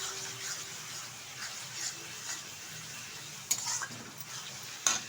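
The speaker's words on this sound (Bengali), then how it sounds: "আবার একটু কষিয়ে নিচ্ছি।" A spice paste with turmeric powder is stirred and sautéed in a pan, a faint steady sizzle with soft scraping and a couple of sharp clinks from a utensil against the pan.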